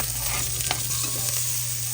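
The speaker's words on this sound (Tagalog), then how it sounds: "igigisa na natin ang bawang. Lagyan na natin ang sibuyas." Garlic and onion sautéing in a little oil, a steady close sizzle with light stirring throughout, alone with no talking.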